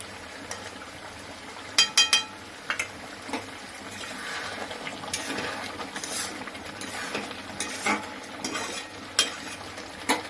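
Around eight spoonfuls of ghee frying in a pan for spinach paneer, a crackling sizzle broken by sharp spatters, pops and the clink of a spoon against the pan, close by with no one speaking.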